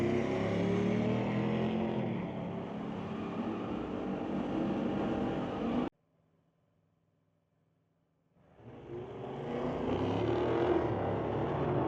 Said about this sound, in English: It'll be the Ford Falcon to race against John Tabak in the pro bracket final